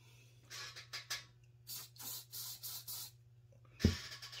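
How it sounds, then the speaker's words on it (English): Short hissing bursts from a spray bottle mist liquid onto a scroll-saw basket part before gluing, with about eight quick puffs in a row under a low steady hum, ending in a soft knock. "Spray some stuff on"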